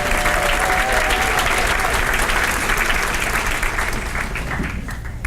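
A banquet crowd at a Teacher of the Year ceremony gives loud, sustained applause for honored school ambassadors, a thick roar of clapping that fades slightly near the end.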